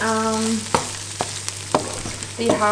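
Cauliflower and broccoli frying in butter and oil with garlic in a pot, a steady close sizzle with a few sharp stirring clicks and scrapes, plus a low constant hum behind.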